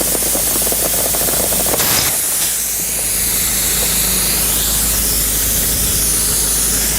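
A Takla airjack bag is pumped up with air, giving a steady loud hiss and rush that runs almost unbroken, with a brief dip in the middle before continuing.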